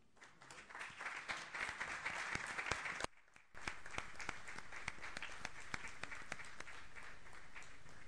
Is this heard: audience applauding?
yes